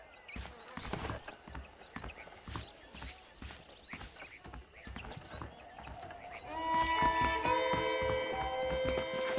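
Horse hooves in the video game Red Dead Redemption clip-clop at a walking pace with a steady rhythm, then game music swells in underneath toward the end.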